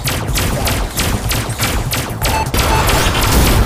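A laser fires in the Micro Breaker brick breaker game as a rapid, loud stream of repeated zapping bursts, dense and rhythmic, with no talking.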